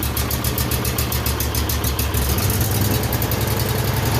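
A 2005 John Deere 125 automatic riding mower engine runs loud and close, chugging in a steady rapid pulse like a small engine just started and settling into idle.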